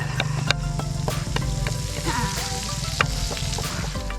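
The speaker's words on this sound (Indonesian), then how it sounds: "Masukkan santan kelapa ini ke dalam wajan yang berisi bumbu merah." Coconut milk sizzling in a wok with red spice paste, a dense steady crackle and bubbling with sharp pops and scraping stirs, close and loud, with faint background clatter.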